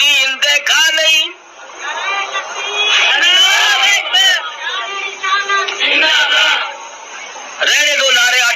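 Crowd chanting slogans in loud bursts, voices rising together and surging between pauses, with a single voice calling out between chants at a religious gathering.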